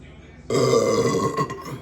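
A single loud, close burp erupts abruptly after drinking during a meal of Little Caesars deep dish pizza and crazy bread, following a quiet moment.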